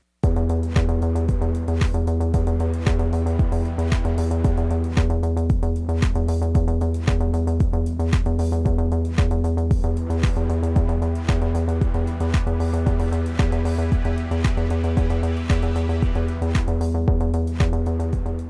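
An electronic sound-alike of a techno track runs as a steady, driving techno loop. A pulsing kick drum sits under a sustained droning synth and ticking hi-hats, loud and continuous, with no voices.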